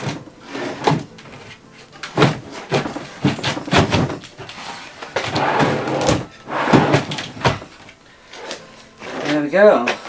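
A wooden drawer on a newly fitted drawer mechanism slides and closes several times during a rustic home renovation, producing repeated close knocks and sliding sounds, with a person talking between them.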